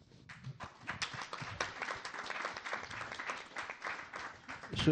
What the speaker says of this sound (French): je vous demande d'applaudir les gens de la mission locale